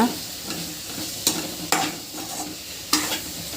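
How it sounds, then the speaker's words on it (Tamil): Ground spices and turmeric fry in a pan for a drumstick (murungakkai) gravy, a soft sizzle running underneath while a spoon scrapes and stirs, giving several sharp clacks against the pan. "இதை ஒரு தடவை நல்லா கிண்டி விட்டுக்கோங்க."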